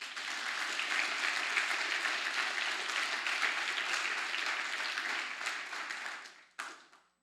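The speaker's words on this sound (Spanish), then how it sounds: "¿Cuántos le dan un aplauso a Jesús por eso?" Sustained applause from a church congregation during a Spanish-language sermon, a dense wash of many hands clapping steadily for several seconds before fading out, with a brief final burst.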